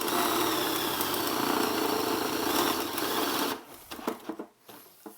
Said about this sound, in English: run them at a medium speed as you're drilling a hole like this